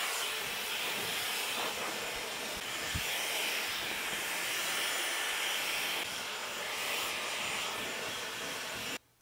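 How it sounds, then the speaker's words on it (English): A handheld hair dryer blows steadily on a woman's hair during a styling routine, a continuous close airy roar with broadband hiss that holds level for about nine seconds before cutting off abruptly. "blow dry is done"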